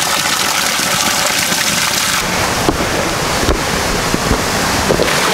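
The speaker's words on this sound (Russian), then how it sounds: "вот я его уже вижу, вот там водопад." The Cheremshansky waterfall in Altai rushes in a continuous broadband roar, heard nearby and mixed with gusty wind buffeting the microphone.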